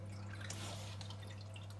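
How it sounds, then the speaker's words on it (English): Water draining and dripping off an aquarium reactor lifted from its pump, a quick patter of close drips and trickles over a steady low electrical hum. "Let the water drain off"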